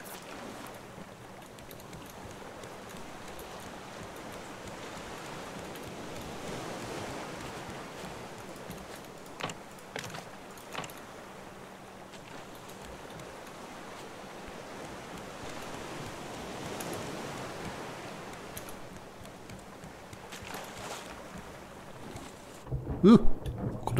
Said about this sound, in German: Kommt das Meer auf einmal her? Ich stand doch noch gerade auf dem trockenen Floß.